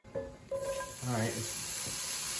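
Sausage starting to sizzle in a pan for Pad Thai with bacon, a steady hiss rising beneath a voice talking close by.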